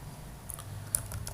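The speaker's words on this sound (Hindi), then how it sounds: "अब मैं टाइप करता हूँ" Soft keystrokes on a computer keyboard while Java code is being edited, a handful of faint, scattered clicks over low room hum.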